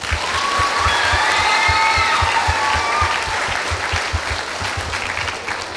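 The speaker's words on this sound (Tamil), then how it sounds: "அவங்களுக்கு ஒரு பெரிய கைத்தட்டல் கொடுங்க" Sustained audience applause at a closing ceremony held at Valli Mahal in Chennai, a dense, loud crowd of clapping hands with faint whistles or voices above it, steady throughout and fading slightly toward the end.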